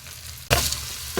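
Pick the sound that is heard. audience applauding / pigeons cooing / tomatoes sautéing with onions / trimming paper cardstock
tomatoes sautéing with onions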